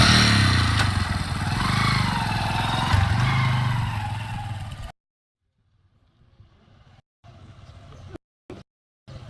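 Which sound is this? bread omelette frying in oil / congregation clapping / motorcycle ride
motorcycle ride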